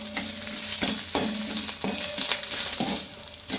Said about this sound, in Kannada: ಹಿಂಗೆ ಚಲೋ ಅದು ಒಂದು ಮೆಣ್ಸಿನ್ಕಾಯಿ ಒಂದಿಟ್ಟು ಹುರಿಯಾಣ್ರಿ.